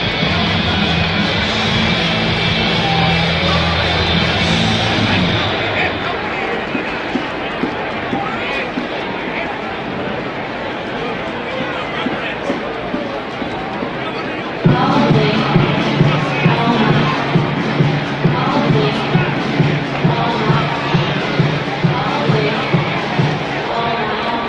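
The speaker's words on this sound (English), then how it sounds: "And you can see the crowd, it's just absolutely a madhouse here." A packed, noisy crowd at the 2012 USA Sevens rugby tournament roars and chatters in a continuous babble, with shouts, cheers and rhythmic claps rising louder near the end.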